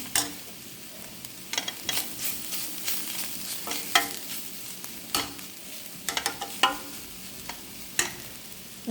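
Shredded cabbage and grated coconut are stir-fried in a pan, the Kerala cabbage dish known as varavu. A steady, soft sizzle runs under repeated scraping strokes and sharper spoon taps, close by and without speech.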